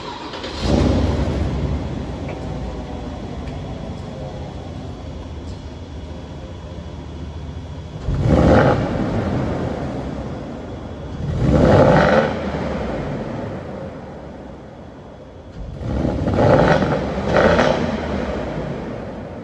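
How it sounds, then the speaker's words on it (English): Porsche Cayenne S with a muffler bypass, started in an echoey garage: a loud idle punctuated by three sharp, roaring revs that swell and fade, with no talking. "I'm gonna start the car up and then you guys can hear what this sounds like in an echoey garage"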